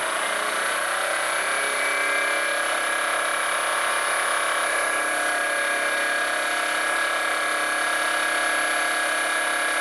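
A crankshaft inertia force testing rig spinning at 2000 RPM gives a steady, loud mechanical whine with constant tonal hum and hiss, unbroken and close.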